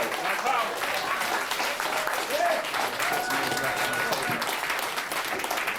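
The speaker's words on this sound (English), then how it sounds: "Give Brother Matthew Tahuti a round of applause." An audience at a talk at a Marcus Garvey venue breaks into sustained applause, dense steady clapping throughout with voices mixed in.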